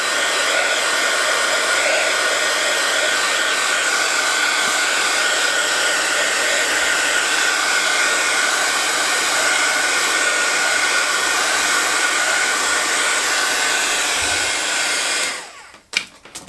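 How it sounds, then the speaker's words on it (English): A heat tool blows with a loud, steady whooshing roar while drying ink splatters on a handmade Christmas card, running continuously for about fifteen seconds before cutting off abruptly. "I'm going to use the heat tool to dry the splatters."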